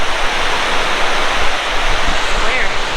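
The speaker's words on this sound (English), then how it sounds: "Look at the difference in the stream going into the river, how clear this water is." A clear stream flowing into a glacier-fed river in Alaska, a loud, steady rush of running water that fills the scene without a break.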